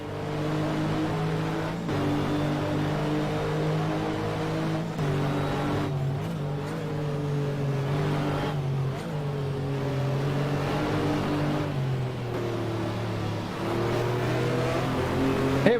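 A race car engine in a video game of the 2000 FIA GT Silverstone 500km revs and accelerates, a loud, continuous engine note whose pitch climbs and dips through gear changes, with no talk.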